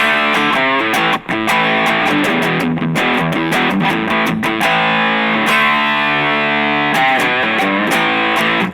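Distorted electric guitar runs through a modded ThorpyFX Lawbringer overdrive pedal with an OPA chip and its filter switched off, playing loud sustained chords with rhythmic muted chops, with no talk.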